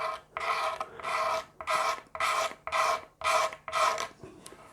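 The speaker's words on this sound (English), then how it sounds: "I'm just going to take a utility knife blade and just work my way around" A utility knife blade scrapes wood on a Rickenbacker 620/12 guitar build, about eight steady back-and-forth rasping strokes, close and clear with brief pauses between them.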